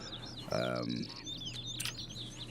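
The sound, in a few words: birds squawking in a hunting video game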